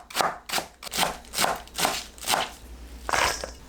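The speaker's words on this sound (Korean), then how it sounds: "배추를 길게 반 자르고 채 썰어주세요." A knife julienning halved napa cabbage on a cutting board gives about seven crisp, evenly paced chops close by, then a short pause and one final cut.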